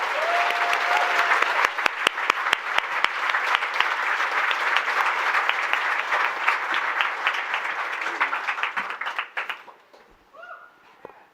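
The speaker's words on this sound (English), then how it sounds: "Please get everyone who is about to speak a round of applause for their love and courage." An audience at a love-themed celebration event breaks into sustained, dense applause that thins out and fades near the end, followed by a few faint sounds in a quieter room.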